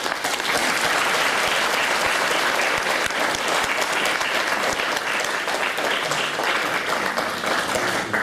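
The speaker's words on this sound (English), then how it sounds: "please give a round of applause again to thank you, Minister Meng" Sustained applause from a conference audience after a ministerial keynote on Taiwan's 2015 policy environment, dense, loud and continuous clapping filling the room throughout without a break.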